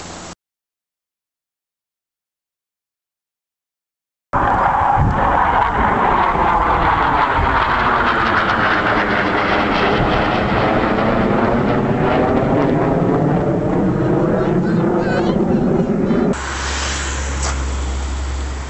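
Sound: airplane flying over on approach

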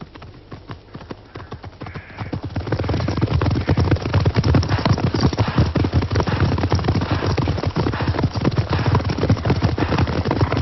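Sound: racehorses galloping during a race

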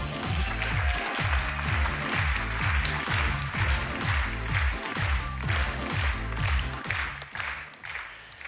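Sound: applause for Peter Ueda

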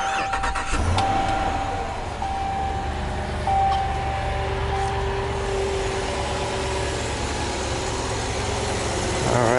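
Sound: RAM 3500 crew cab truck engine cranking and starting

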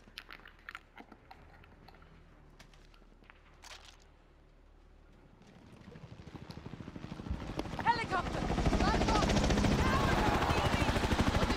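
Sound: helicopter in the video game Call of Duty: Modern Warfare

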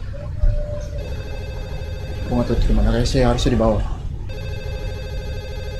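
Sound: telephone ringing in the next room, from a video game

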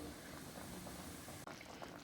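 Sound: fenugreek mango tamarind curry (kulambu) boiling in a pot

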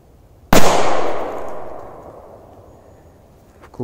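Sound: firecrackers exploding

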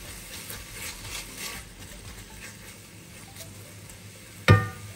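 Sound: sautéing Thai green curry paste in a pan

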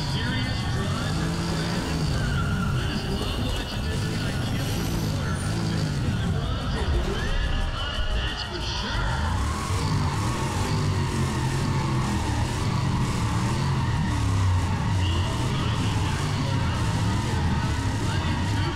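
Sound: race cars driving and skidding in video game Need for Speed ProStreet

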